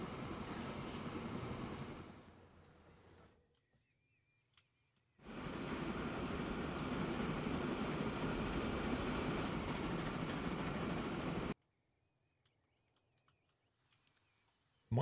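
A freight train in Transport Fever 2 rumbles along its rails in two long, steady, noise-like stretches, fairly loud, separated by near silence and faint clicks.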